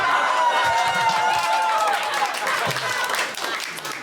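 Comedy-show audience clapping in a dense burst of applause that fades over a few seconds, with a voice talking over it and cheers mixed in.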